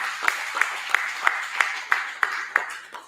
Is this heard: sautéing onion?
no